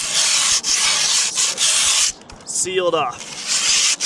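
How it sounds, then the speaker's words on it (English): Sandpaper rubbed over a wooden skateboard deck in long, loud, close strokes with short breaks, then a brief pause in which a voice speaks before the rasping sanding resumes. "you do want to sand it a good bit just so it doesn't peel up on you"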